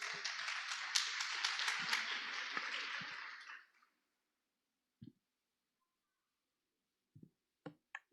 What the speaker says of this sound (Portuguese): Vamos receber a nossa irmã com uma salva de palmas.